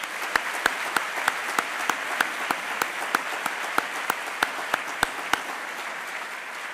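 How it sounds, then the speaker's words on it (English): Applause fills a university convocation hall as a soft, even patter of many hands, with a series of sharper, louder individual claps standing out at regular intervals over the crowd. "Please give yourselves and your colleagues and our students a round of applause"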